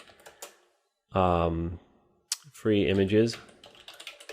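Quick keyboard taps sound between spoken words as someone types into a search on a computer, close and clicky, mostly under talk.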